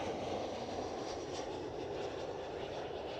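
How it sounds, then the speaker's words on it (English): A KLM Cityhopper Embraer E175 airliner touches down at Schiphol Amsterdam, heard as a steady, distant broadband roar of jet engines and rolling rumble that holds even throughout without talk. "KLM City Upper E175, touchdown right now"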